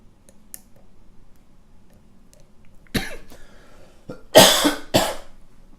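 Two or three sharp coughs from a person nearby, coming in quick bursts after a stretch of near silence with faint clicks while a lock is being picked.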